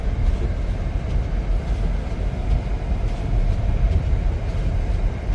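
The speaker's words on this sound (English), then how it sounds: "I know it's kind of loud. I got the heat on high." A 2012 Toyota Camry's heater fan blowing on high in winter, a steady, loud broadband rush that holds evenly throughout with no talking.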